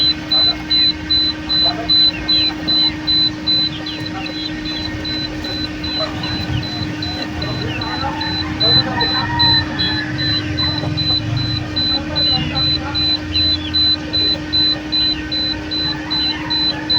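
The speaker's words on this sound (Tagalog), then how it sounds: "Normal lang yan mga kamanok na tumunog siya kasi bumababa ang temperature niya." An egg incubator for chicken eggs gives a steady, repeating electronic beep alarm as its temperature drops, pulsing regularly over a constant hum and faint background room noise.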